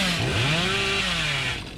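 A killer's chainsaw revs in a video game, loud and continuous, its whining engine pitch sweeping up and down before easing off near the end, with no talking.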